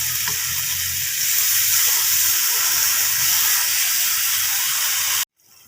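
A Bengali chilli fish curry with mustard-poppy paste bubbles in a pan, heard as a loud, continuous hissing sizzle that cuts off abruptly near the end, with no voices.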